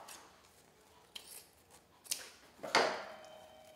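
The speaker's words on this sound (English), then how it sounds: "I'm gonna go ahead and cut that ribbon off" Scissors snip through ribbon while a Victorian rose gift bundle is being made, giving a few quiet close cuts with one sharper final snip and no voices.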